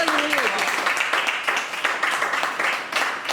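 A church congregation applauds during a worship service, a dense burst of many hands clapping with uneven swells, and a voice briefly heard at the start.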